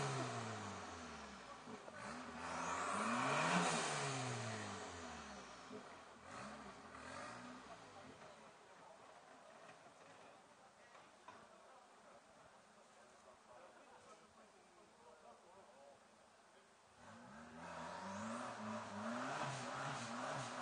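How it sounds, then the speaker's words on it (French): A car accelerates in jerky bursts, its engine surging loudly near the start, fading through a quieter middle stretch, then revving up again toward the end, with voices faintly audible underneath. "Accélère par à coup."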